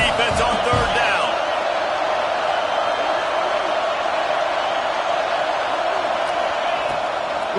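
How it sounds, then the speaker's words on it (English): Stadium crowd cheering on third down in the College Football 26 video game, Texas at Michigan, a loud, continuous wall of roaring noise. "Decibels rising as the crowd gets behind this defense on 3rd down."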